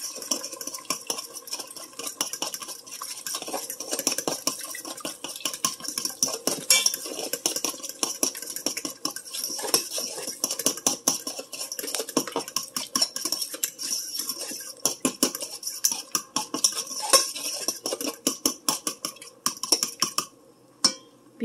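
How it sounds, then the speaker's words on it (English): A fork whisks eggs in a bowl for a ground beef breakfast casserole, a rapid, continuous clinking and scraping of metal against the dish, close and brisk, with no talking. "And whisk it up."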